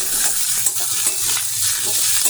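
Diced beetroot and small-cut carrot fry on a medium flame in a pan, giving a steady close sizzle with soft scraping stirs that recur throughout.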